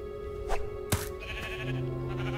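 A sheep from Minecraft: Story Mode gives a couple of short bleats over a quiet game soundtrack, with a sharp effect sound in the middle and sustained music tones afterward.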